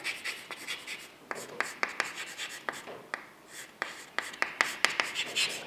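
A pen writes hospital words on paper in close, quick scratchy strokes, short bursts separated by brief pauses, with no talk.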